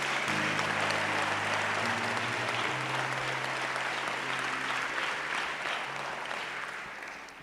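Church congregation applauding during a Sunday-morning conference service, a steady broad wash of clapping that holds throughout and tapers slightly toward the end, with a sustained low keyboard or organ tone underneath.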